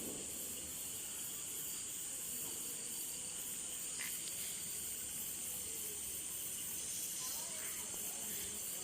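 Leafy greens sizzling in hot oil with fried garlic, a steady, even hiss that carries on for the whole stretch with no other sound over it.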